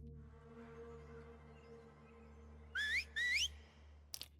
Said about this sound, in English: hearing whistles like that in the distance